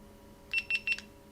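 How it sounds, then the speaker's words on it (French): Three short, high electronic beeps in quick, even succession from a GoPro Hero6 Black action camera powering on nearby, over a quiet background hum. "Voilà, ça bip."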